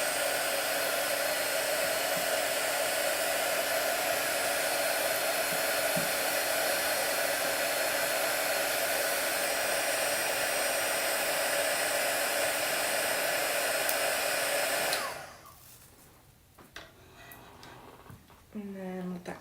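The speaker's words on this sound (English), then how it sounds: "We're going to go in again with our heat tool and we're going to fuse that in." A heat tool blows hot air to fuse jewelry during a live jewelry class: a loud, steady rushing roar for about fifteen seconds that cuts off abruptly, leaving quiet scattered handling sounds afterward.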